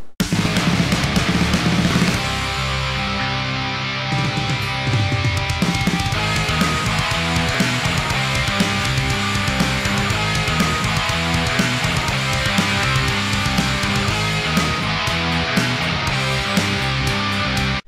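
Guitar tracks sit in the radio tracks of a full band mix, with dense rhythm guitars, bass and drums playing steadily and loudly throughout.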